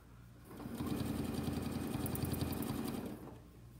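A sewing machine stitching embellishment along a template on a quilted octagon table runner makes one rapid, even burst of stitching lasting about two and a half seconds, starting and stopping cleanly at moderate volume.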